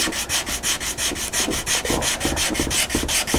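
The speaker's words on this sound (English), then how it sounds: "glue it, a piece of 80 grit onto a wooden dowel and do the same thing" A wooden dowel wrapped in 80 grit sandpaper rubbed back and forth against a fairing surface, giving a steady rhythmic scratchy rasp of about five strokes per second, close and uninterrupted.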